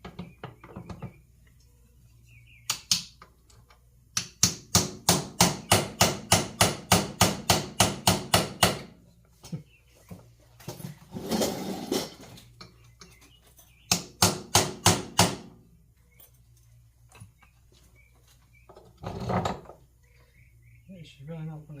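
A hammer taps a stuck part held in a vise: a quick run of about fifteen rhythmic metallic blows, then scattered heavier strikes and short pauses, with occasional talk between.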